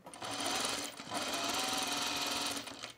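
A home sewing machine running out of thread while sewing pin tucks on a top runs continuously and loudly for about three seconds, with a steady mechanical rattle and a slight dip in pace partway through.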